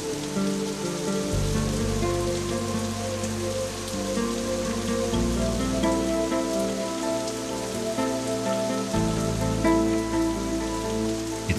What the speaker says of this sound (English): The rain is heavier now.